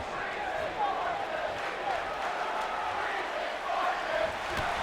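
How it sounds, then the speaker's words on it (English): Steady roar of a wrestling arena crowd in WWE 2K19, a dense continuous wash of cheering and chanting voices that fills the whole stretch at even loudness with no single voice standing out. "the crowd, the chants of Breeze is gorgeous"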